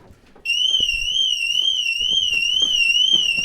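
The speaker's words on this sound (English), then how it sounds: "the alarm's going to be going off" Toyota Supra car alarm sounding loud and steady from half a second on, a warbling high-pitched tone with faint thumps and movement beneath it.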